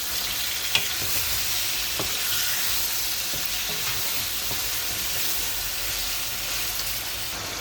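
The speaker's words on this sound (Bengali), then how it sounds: "মাছটি কষানো হয়ে গেছে" Fish cooks in a spicy green chili masala in a hot pan, giving a continuous dense sizzle with occasional stirring scrapes and small taps.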